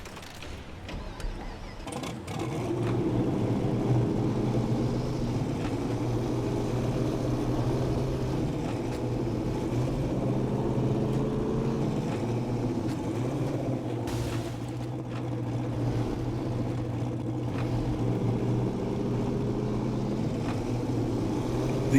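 A custom truck engine in the off-road driving game SnowRunner idles and rumbles steadily for about twenty seconds, a low, constant mechanical drone with faint clanking, loud and close with no one talking over it.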